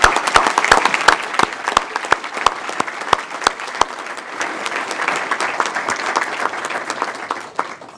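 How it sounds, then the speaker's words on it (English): Audience applause fills a banquet hall at an ATHENA Award ceremony honoring women, with dense steady clapping and sharp individual claps standing out near the front, holding at full strength for the whole stretch. "Get a big round of applause for all the women here tonight."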